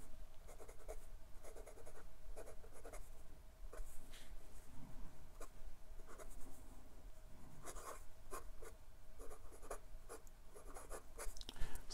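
A 1940s Waterman Starlet fountain pen with a 14 karat gold nib writes on Clairefontaine 90 GSM paper, giving soft, continuous close-up nib scratching with brief strokes and taps throughout, faint and without talk.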